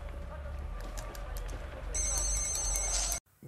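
A telephone in the film Kidulthood rings with bright electronic tones, growing louder before cutting off abruptly, over a steady low background hum.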